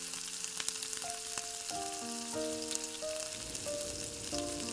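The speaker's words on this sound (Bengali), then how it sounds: "টমেটোটা আমাদের হালকা করে ভাজা হয়ে গেছে" Chopped tomatoes frying in a pan for a fish-style curry: a steady, close sizzle and crackle running continuously, with faint sustained tonal notes in the background and no talking.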